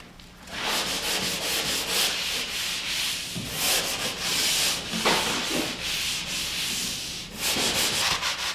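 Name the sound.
hand sanding drywall with sanding screen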